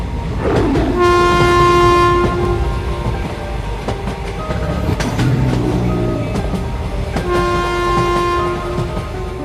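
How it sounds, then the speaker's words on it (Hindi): A train with loud horn blasts sounding at the start and again near the end, with rumbling, clattering carriage noise in between as it begins to roll. "तभी ट्रेन शुरू हो जाती है।"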